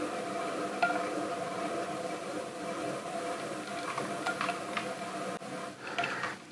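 A tungsten carbide tool trims a small clay vase that is slightly too damp on a spinning pottery wheel: a steady, quiet, gritty scraping over a low motor hum, with a few faint clicks.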